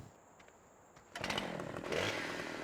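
A chainsaw in Farming Simulator 17 starts up abruptly after a quiet stretch and then runs loud and close, its engine surging louder toward the end.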